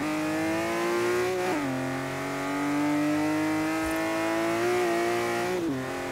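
A TVR Sagaris sports car in the racing game Forza Horizon 3 revs hard through the gears, its loud engine note climbing steadily and dipping briefly at each upshift.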